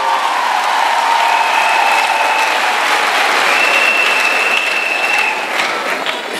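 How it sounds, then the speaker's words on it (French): Audience at a singles' retreat gathering applauding, with a dense, loud, continuous clapping that carries on for several seconds and thins slightly at the end, with no talking. "Acclamons pour son fidèle disciple."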